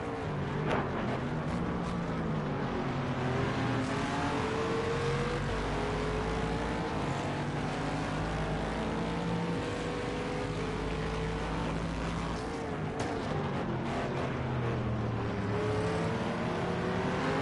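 A train of three or four GT3 race cars laps Daytona in a racing video game, engines droning loudly and shifting pitch as they roar past in close succession.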